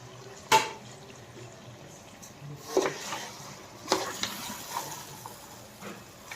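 Rice is stirred into a pot of village-style natukodi country chicken dum biryani: scattered scrapes, clinks and soft wet knocks of a utensil against the pot, a few sharp hits over a quiet background.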